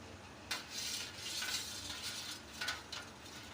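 A spoonful of yogurt is stirred into a pot of boiled milk: scraping swishes and light metallic clinks of the spoon against the pot in short strokes, close and moderately quiet, with no talking.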